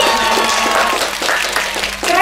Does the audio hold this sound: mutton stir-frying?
no